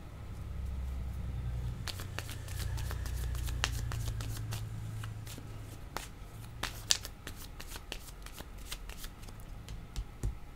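Oracle cards being shuffled and drawn by hand for a card reading, a steady papery riffle and slide with soft low rumble underneath, then sharper individual card snaps and taps toward the end, close and moderately quiet, no talking.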